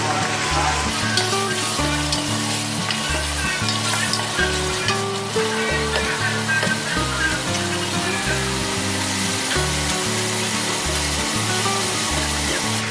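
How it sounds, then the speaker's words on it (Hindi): Steady, dense sizzling of meat frying with garlic in a hot pan for nihari, loud and continuous, with occasional stirring scrapes and no talking. "हमारा गोश्त अच्छी तरीके से फ्राई होगा लहसुन के साथ।"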